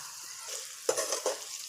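Okra and potato sabzi with green chilies sizzles in a pan, a steady, soft frying hiss broken by a couple of sharp stirring scrapes.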